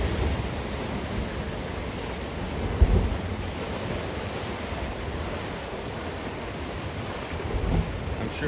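Ocean waves surge through rocks on the Oregon coast and spout upward, making a continuous broad wash of surf with a brief thump partway through, heard over wind buffeting the microphone.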